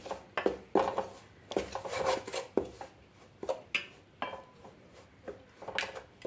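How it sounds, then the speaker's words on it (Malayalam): Rice flour being roasted in a pan and stirred continuously to a light golden colour for avalose podi, giving repeated scraping and clinking strokes of a spoon against the pan, close and moderately loud, with no talking. "തുടർച്ചയായിട്ട് തന്നെ ഇളക്കാൻ പ്രത്യേകം ശ്രദ്ധിക്കണം"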